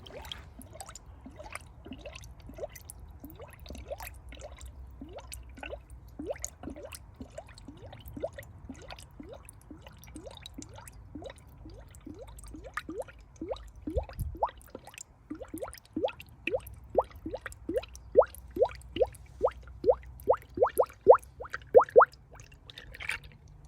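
Coolant draining from a 2009 Toyota Camry during a coolant change, a long run of rapid drips and gurgling plops that grows louder and more spaced toward the end, close and alone.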